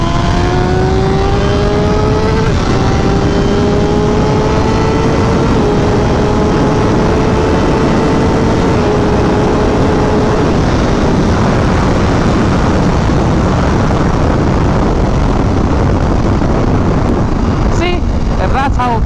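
A BMW M1000RR superbike running stock without a tune, its engine revving hard through rising gear pulls with brief shift breaks, loud and close under heavy wind roar.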